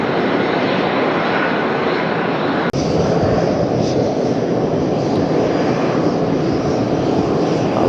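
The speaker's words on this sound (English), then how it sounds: "Spirit Airlines touching down on the 1s" A Spirit Airlines jet airliner touches down in a gusty crosswind at Las Vegas, its loud, steady engine roar filling the air throughout, broken once by a sharp click.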